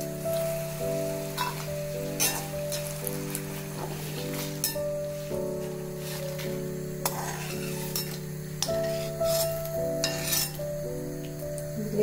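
Pappadam frying in hot oil makes a continuous crackling sizzle with scattered sharp pops and clinks, steady and close, and a low humming tone runs underneath.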